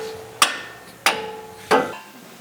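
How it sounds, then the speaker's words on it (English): Three sharp hammer taps spaced evenly about half a second apart, driving the lower control arm bolt out of the rear suspension of a 2021 Ford Bronco, close and fairly loud with no talking. "now you're going to go ahead and just tap the lower control arm bolt out"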